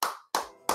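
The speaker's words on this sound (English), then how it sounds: "round of applause for both these" Three loud, close hand claps in quick succession, each crisp with a short decaying tail.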